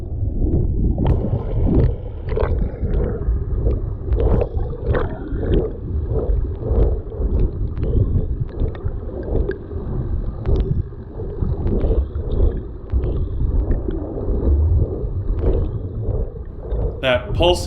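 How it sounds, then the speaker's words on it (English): Rhythmic underwater pulsing from a swimmer kicking hard to keep pace with a whale shark off Cancun, a steady series of close, muffled whooshing thumps under constant water rush. "That pulsing sound you can hear is probably me just kicking hard to keep up with this whale shark"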